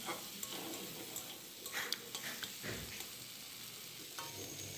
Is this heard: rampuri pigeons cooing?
no